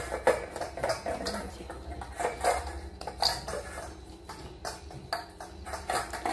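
A Pomeranian dog licks a bowl clean of panta rice with boiled vegetables, knocking it so the bowl clinks and rattles in a loose, repeated rhythm at close range, with no talking.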